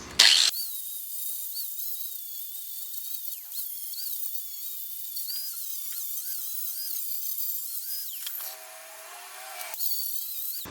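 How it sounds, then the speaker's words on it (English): A 40 grit flap disc on an angle grinder strips paint and rust from a rusted-through car fender on a Porsche 914 project, a steady high whine held close and loud for about eight seconds, briefly dropping in pitch before spinning back up. "So I got a 40 grit flap disc here and I'm just going to grind this down"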